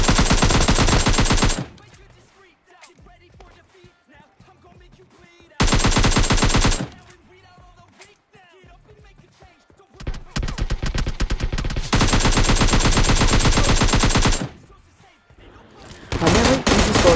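AKM automatic fire in PUBG Mobile Lite, loud sustained bursts of rapid shots separated by quieter gaps carrying footsteps and game ambience, with a long continuous spray near the end.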